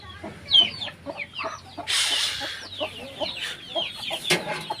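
Chickens raised in a shed cluck and chatter continuously in a close, busy flock, with a loud burst of flapping or scuffling midway and sharp calls throughout.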